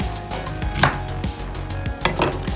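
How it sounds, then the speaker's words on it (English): An onion being sliced into long julienne strips on a board, with a series of knife chops in an uneven rhythm, close and moderately loud, with no talking. "We take the onion in julienne cuts."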